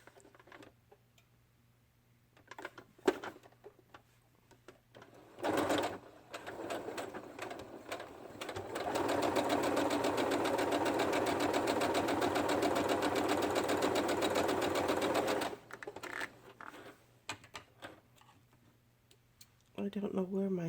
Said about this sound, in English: So I'm going to stitch this on to here, and then I'm going to stitch this on the back.